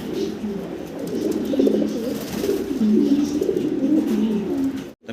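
Lahori and Danish pigeons coo repeatedly in a low, throaty burble, close and steady, with several birds overlapping throughout.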